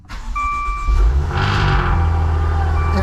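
Maserati Ghibli engine starting after an oil pressure sensor replacement: a close crank that catches and settles into a steady low idle with a faint tone above.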